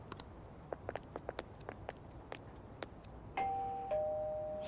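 Doorbell rung in the video game Persona 5 Royal, a clear two-tone chime near the end, after a series of soft footstep-like taps over a quiet background.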